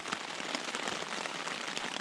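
Steady rain patters hard on surfaces along the European Divide Trail, a dense, even hiss with scattered close drops and no pauses.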